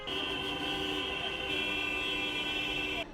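Dense, sustained honking from hundreds of taxi horns blaring together at a street protest on Khreshchatyk in Kyiv, a steady loud wall of tones that cuts off abruptly near the end.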